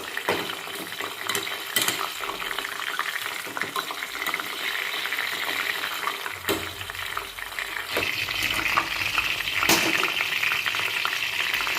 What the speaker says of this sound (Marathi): आपलं तेल छान असं कडतं आहे आणि ती फुलं आहेत ना अशी छान शिजत आहेत